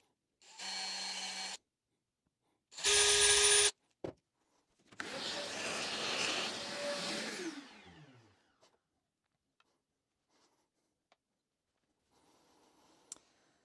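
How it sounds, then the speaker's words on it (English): An electric drill with a thin 1.6 mm bit bores pilot holes for guitar pickup screws: two short close whirring bursts, then a longer run whose whine winds down, followed by faint clicks and handling noise. "So I'll just use the drill now just to go into those."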